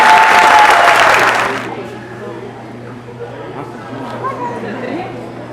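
Loud burst of clapping from an audience at a school event that stops abruptly after under two seconds, leaving quiet room murmur and a low hum.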